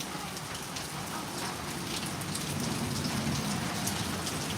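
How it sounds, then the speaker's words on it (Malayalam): Heavy rain falls steadily in Kinassery, Palakkad, a dense continuous hiss of drops drumming on surfaces, close and loud with no voices. "പാലക്കാട് കിനാശ്ശേരി എന്ന് പറഞ്ഞ സ്ഥലത്ത് നല്ല മഴയാണ് ഇപ്പോൾ"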